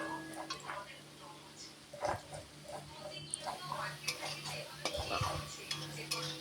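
Repeated scraping and stirring of spices, including turmeric, being sautéed in a pan for a Bengali fish curry, close and moderately loud, with a faint sizzle and occasional utensil knocks underneath.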